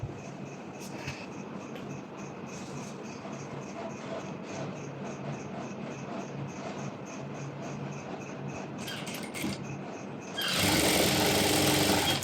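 A sewing machine runs steadily, stitching a circular maxi dress in a fast, even mechanical whir, with a couple of brief clicks near the end before a louder burst of broadband noise takes over.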